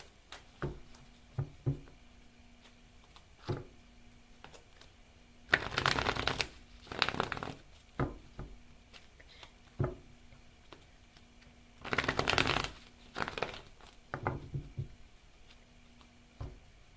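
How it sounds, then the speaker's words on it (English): Tarot cards being shuffled by hand, with two longer riffling bursts and scattered taps and clicks in between, close and fairly quiet in an otherwise still room. "I was trying to shuffle"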